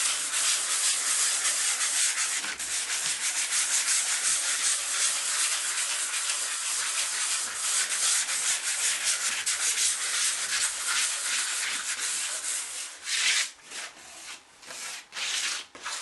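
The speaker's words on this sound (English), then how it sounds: "Don't sand it too much." Sandpaper rubs back and forth over a painting surface being prepared for oil paint, a continuous close, hissing scrape that runs steadily and turns choppier near the end, with no voices.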